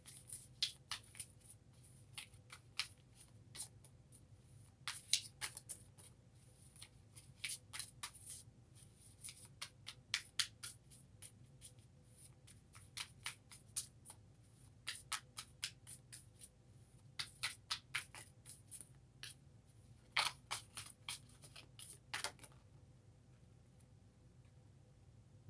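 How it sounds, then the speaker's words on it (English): Shuffling a deck of reading cards during a spiritual reading, heard as repeated crisp riffling bursts in irregular clusters over a low steady room hum, fairly quiet and with no talk. "I'm sorry for all the shuffling, you guys. These cards aren't used to me yet, so it takes a little while."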